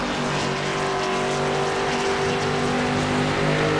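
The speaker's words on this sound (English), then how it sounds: "Oh, listen to the purr of that engine." A NASCAR X Series race car engine in a sim racing game at Phoenix Raceway, a loud, steady droning roar holding a constant pitch throughout, with no one speaking.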